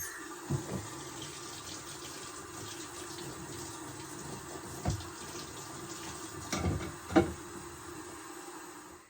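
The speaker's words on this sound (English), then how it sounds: "Wash that jar out now." Running tap water splashes into a jar at a kitchen sink while it is rinsed out, with a steady wash of flow and a few louder knocks and clunks of the jar near the end.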